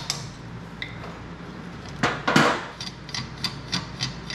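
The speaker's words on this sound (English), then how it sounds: "We're going to wire brush all this up." A wire brush scrubs the steering stem of a motorbike during a front-end swap, giving a few short, harsh scratching bursts close by, the loudest around the middle, then lighter repeated strokes.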